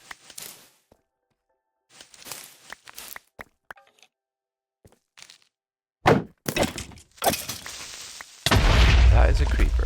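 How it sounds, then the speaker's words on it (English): Arrows fired by a skeleton in Minecraft at the player, heard as scattered sharp game impact and cracking sounds in short bursts, with a dense louder stretch of noise near the end. "There's a skeleton shooting me."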